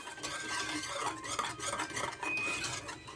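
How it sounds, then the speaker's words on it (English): White sauce thickens in a pan as a utensil stirs it continuously, making a close, rhythmic scraping and rubbing against the pan bottom, with no speech. "As I'm stirring it, there's no more lumps in my sauce."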